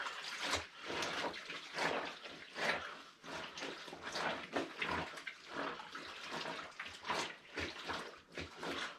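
Clothes are hand-washed and wrung out in a tub of water on an off-grid homestead, giving repeated sloshing, splashing and dripping in an irregular rhythm, close up and moderately loud, with no talking.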